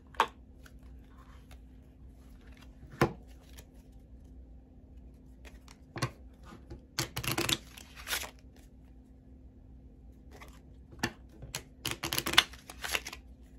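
Playing cards are handled close to the mic in a quiet room, with scattered soft flicks and riffles, a few short shuffling bursts and sharp card snaps spread across the stretch.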